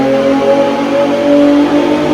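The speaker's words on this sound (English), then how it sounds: "you can hear VTEC cracking, all that good stuff" An Acura TL engine with a cold air intake, full exhaust and no catalytic converters revs hard, making a loud, sustained, close-up roar that rises and holds.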